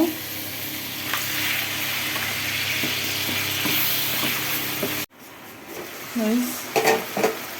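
Fish sautéing in spiced oil in a pan, with a loud, steady sizzle for about five seconds, then a cut to quieter stirring and a few scraping clicks.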